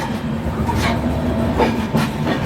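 Ahmedabad–Gorakhpur Express rolling into Vijayawada Junction at night, a steady loud rumble of coaches with rhythmic wheel clatter and squeal heard from on board.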